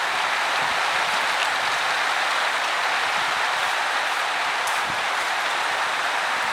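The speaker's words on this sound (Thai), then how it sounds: "เพราะว่าฝน เริ่มแรงละ" Heavy rain pours down steadily on an outdoor surface in Surin province, Thailand, at the first rain of the year, a dense, constant hiss with no breaks and no voices over it.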